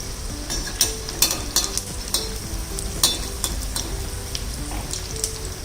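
Ridge gourd bhaji fritters fry in oil over a low-to-medium gas flame, giving a steady crackling sizzle broken by occasional sharp clinks and scrapes of a utensil in the pan.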